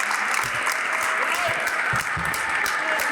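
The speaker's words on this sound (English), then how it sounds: "I want you to put your hands together and I want you to give yourselves a great round of applause" Sustained, dense applause from a crowd at an outdoor Black History Month flag raising ceremony, loud and continuous throughout with a few scattered voices mixed in.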